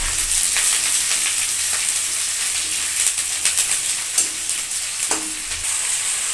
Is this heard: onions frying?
yes